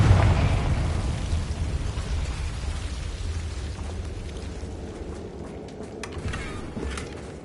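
A Confringo blasting spell explodes in Hogwarts Legacy, a loud booming burst that opens strongly and decays into a long rumbling tail with scattered debris crackles over about seven seconds.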